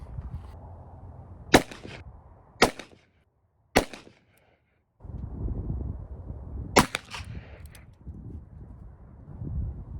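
Several sharp .44 Magnum handgun shots crack out one after another at irregular intervals, with a low rumbling background from a passing train between them and a brief quiet stretch.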